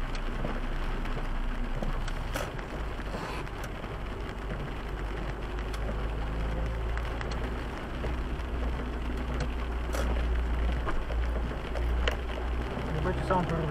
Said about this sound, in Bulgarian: Това си вали.